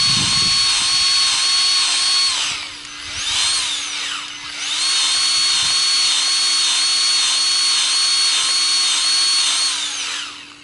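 A Milwaukee M12 cordless grease gun whines loudly and steadily while greasing a fitting on a Kubota B2650 tractor, its motor running in long sustained bursts with a brief dip near the middle.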